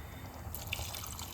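Water runs into a cooking pot for chole during a home kitchen prep, a steady close pour with a faint dripping splash partway through and no talk.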